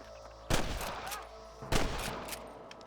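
Gunfire in the Western video game Red Dead Redemption, two loud sharp shots about a second apart, each trailing off into an echoing decay, with lighter crackling pops between them.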